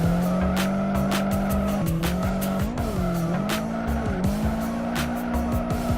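A drifting car's engine revs hard and holds high with pitch shifts through gear changes, while the tires squeal continuously and loudly across the whole stretch, close and unbroken.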